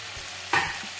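Potatoes fry in a pan with a steady close sizzle, a sharper hissing burst in the middle as they are stirred, then the even crackle again, with no voices.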